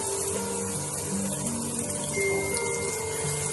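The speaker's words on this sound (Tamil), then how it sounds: "புளி தண்ணி இப்போ ஊத்தணும்." Tamarind water is poured into a Nellore fish curry, giving a steady, even pouring and gushing of liquid close by for several seconds with no talk.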